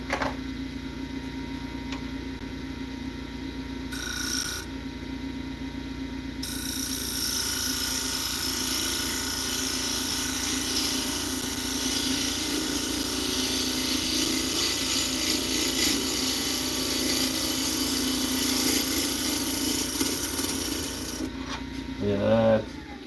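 A wood lathe cuts while turning a bowl, giving a steady rasping, scraping tool noise over a continuous motor hum that grows louder and rougher partway through and stops near the end.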